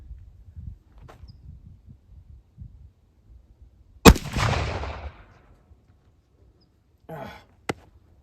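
A .45 Colt cartridge loaded with 76/12/12 powder fires as a single loud, sharp gunshot with a booming tail. It comes after quiet handling noise and is followed by a faint rustle and a small click.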